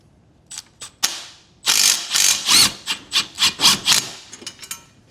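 A ratchet or wrench clicks and rasps in short bursts while tightening a bolt on an off-road go-kart build, a series of close, sharp scraping strokes in quick rhythm after a few isolated clicks.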